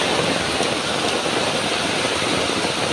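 Heavy typhoon rain from Typhoon Kristine pours steadily and loudly on surfaces at close range, a dense unbroken roar with no voices over it.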